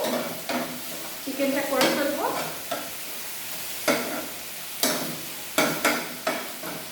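Chicken with chopped green chilli and salt frying in a pan, a steady soft sizzle broken by repeated scraping strokes of a spatula stirring it, close and moderately loud with no talking.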